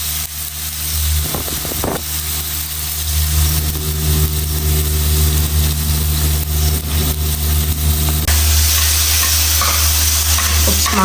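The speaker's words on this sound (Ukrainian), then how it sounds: "Тепер засипаємо помідори." Tomatoes hit a hot wok and are stir-fried, giving a loud, steady, close sizzle with a roaring burner beneath and brief scraping clatters early on.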